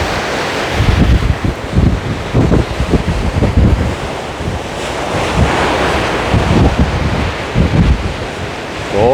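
Heavy surf pounds the sea off Jeju as Typhoon Khanun approaches, with high waves crashing in a continuous loud roar and gusts of wind buffeting the microphone throughout.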